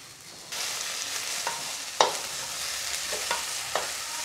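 Cabbage, capsicum and green chilli stir-fried in a pan for American chopsuey, a steady close sizzle with several sharp scraping stirs of the spoon, no voices.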